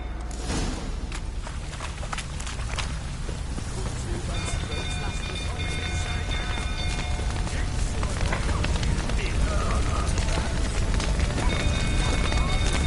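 Horses in a video game stable fire clop their hooves and stir restlessly in a steady stream of movement, with occasional whinnies, crackling, and people talking urgently over it.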